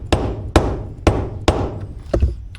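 A hammer strikes a stuck part in five loud, sharp metallic-wooden blows, spaced about half a second apart with a quicker double hit near the end, close and with no voices.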